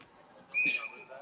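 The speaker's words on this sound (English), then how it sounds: "Now whistle on the play." A referee's whistle sounds in a Tier 1 youth ice hockey game, one short sharp shrill blast, fairly close, over faint rink background.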